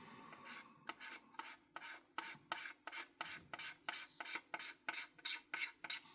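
A hand tool scrapes a plastic part from a Revell 1/48 Bristol Beaufighter Mk.VI model kit, giving about fifteen quick, even rasping strokes, close up and alone.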